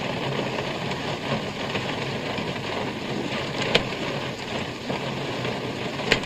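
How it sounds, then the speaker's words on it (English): Steady rain falls in a dense, even hiss with a few sharper drops and clicks standing out, continuous throughout with no voices. "I thought we'd wait out this rain"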